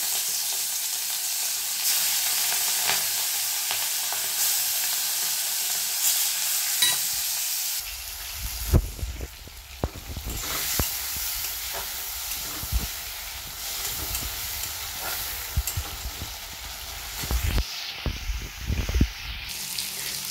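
Fish fries in hot oil in a wok, a steady hiss and sizzle at first, then a fuller crackle with intermittent clinks and scraping from stirring.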